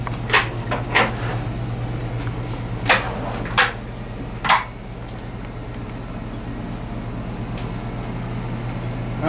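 Kitchen cabinets and drawers in a 2018 Newmar Ventana 3709 diesel motorhome are opened one after another, five or six sharp knocks and clacks spaced over a few seconds against a steady hum.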